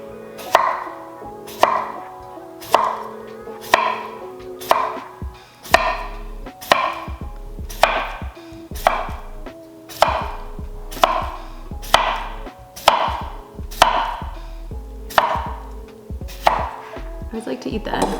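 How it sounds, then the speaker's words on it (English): A knife slices cucumber on a cutting board in a home kitchen, about a dozen crisp, evenly spaced chops ringing close and clear with no talking. "Then for just some cucumber slices."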